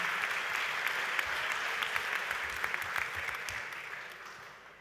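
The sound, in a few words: applause for a speaker at a Pacific leaders summit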